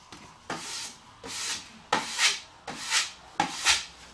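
Fresh wallpaper is wiped down by hand to clear excess paste, heard as five close, soft rubbing swipes in a loose rhythm with short pauses between strokes.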